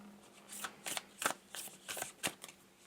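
Oracle cards shuffled during a card reading, heard as about six quick, soft riffling bursts in a steady rhythm, close and fairly quiet with no voices.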